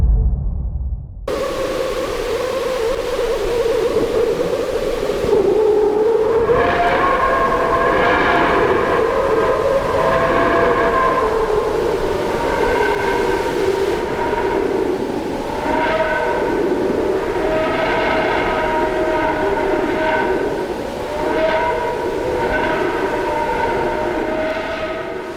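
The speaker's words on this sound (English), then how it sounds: "The result is a translation of solar activity into frequencies we can hear." Solar plasma waves and magnetic fluctuations turned into sound make an eerie, continuous wash of layered tones that slowly bend and wobble in pitch over a steady hiss. The sound is loud and unbroken throughout, with no voices.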